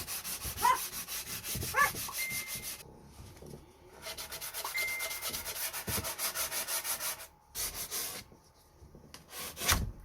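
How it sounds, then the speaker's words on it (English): Old, worn sandpaper rubbed by hand across a surface inside a narrowboat during painting prep, giving close, rhythmic back-and-forth scratchy strokes in bursts separated by short pauses. "It'd be better if I had decent sandpaper, but I don't know where Sol's put it. This is an old one."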